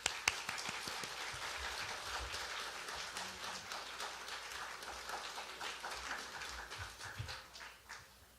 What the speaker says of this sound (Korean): 격려의 박수 환영의 박수 올려드리도록 하겠습니다